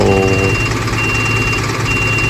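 A Cummins engine on Case equipment idles at slow RPM with a loud, steady low throb and a thin high whine over it, holding even and close throughout.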